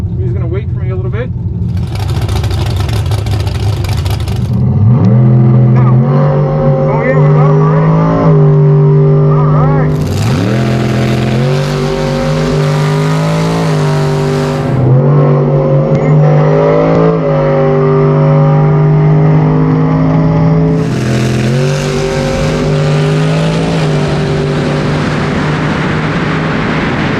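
A COPO Camaro and a Tesla Plaid are launched in a quarter-mile drag race, with a loud engine revving and climbing through repeated rising pitch sweeps as gears change, and bursts of broadband noise over a steady near drone.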